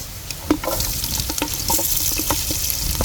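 Onion leeks sautéing in a pan, a soft steady sizzle with scattered clinks and stirring scrapes over a few seconds, moderately quiet with no voices.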